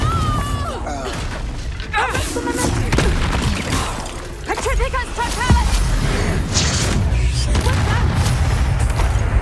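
Confringo fire-blast spells cast in Hogwarts Legacy burst repeatedly amid busy combat effects, with booming impacts and crashes layered over game voices and chatter throughout.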